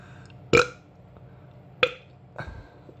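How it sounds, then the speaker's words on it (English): A man burps after drinking Kamenitza beer: one loud, throaty belch, then a shorter one and a softer third, spread over a few seconds with quiet room tone between. "If I burp, sign of good beer."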